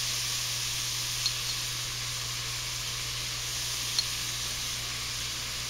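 Onions sautéing in oil, a steady close bright sizzling hiss that continues evenly, with a faint low hum underneath and a couple of tiny ticks, no talking.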